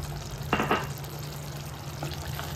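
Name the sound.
stirring mutton curry with coriander powder in pan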